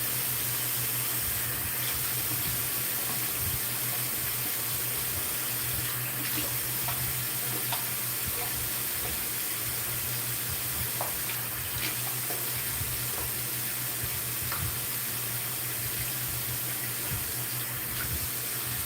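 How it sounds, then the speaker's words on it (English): Water runs steadily and evenly while it is put onto gray natural hair during twist styling, a continuous splashing hiss with no talking over it. "I'm gonna put some water on there."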